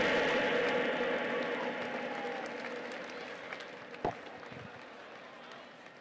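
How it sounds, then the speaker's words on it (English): A crowd applauds as a vintage plane with eighty years of flying history passes overhead, broad steady clapping that starts loud and slowly fades, with a single sharp knock near the end. "Give it a round of applause."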